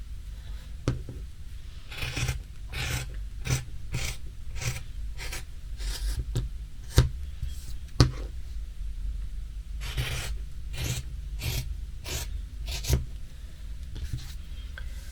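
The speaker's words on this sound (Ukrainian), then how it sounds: "Сюди ось так от лінію проводимо. І сюди лінію так проводимо." Pen or chalk drawing marking lines on fabric while cutting leggings with foot straps, heard as a series of short scratchy strokes in bursts, close and fairly clear, with no talk.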